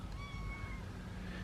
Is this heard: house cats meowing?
yes